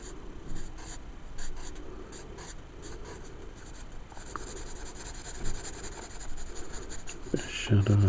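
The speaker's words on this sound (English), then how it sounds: "And draw some teeth in there." Pencil scratching and rubbing across paper while teeth are drawn into a monster concept sketch, a steady close scraping texture with small strokes throughout and a soft voice underneath.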